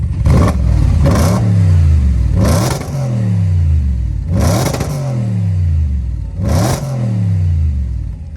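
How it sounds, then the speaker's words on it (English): An Audi RS5 V8 with a Scorpion exhaust revs hard four times in a row, each burst rising to a roar then falling away with a deep, rumbling exhaust note, close and loud. "Sounds like a V8 now."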